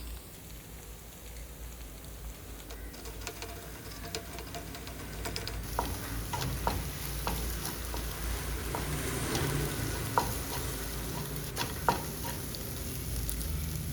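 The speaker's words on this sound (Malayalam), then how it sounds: "മുട്ട നന്നായിട്ടൊന്ന് ചിക്കിയെടുക്കണം." Eggs scrambling and stirring in a hot frying pan, a continuous sizzle with repeated scraping taps of a utensil against the pan, steady and close throughout.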